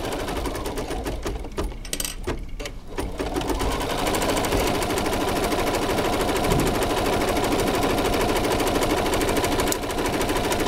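Bernina 830LE sewing machine stitching a buttonhole over gimp cord, a loud, close, continuous rapid mechanical whir with dense rhythmic stitching after a short start-up, no talk.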